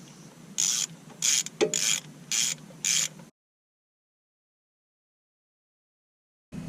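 Torque wrench ratcheting on the oil pan bolts of an LML Duramax diesel Chevrolet Silverado, heard as five short, crisp bursts of clicking in a steady rhythm, close and fairly loud, followed by about three seconds of silence.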